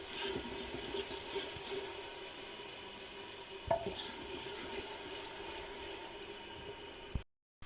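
Onions sizzle steadily as they brown in a pan for Lahori murgh chane, a constant soft frying hiss with one sharp clink of a utensil midway.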